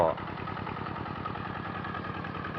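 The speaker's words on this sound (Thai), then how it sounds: "นี่ก็จะเป็น รถไถเดินตาม" A walk-behind tractor engine runs steadily at a close, loud, even idle-like chug, used for ploughing a wet rice paddy with iron cage wheels.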